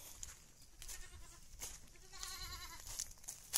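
Goats on a small kalamansi farm bleat several times in quick succession, wavering cries fairly close but quiet, amid faint rustling and background noise.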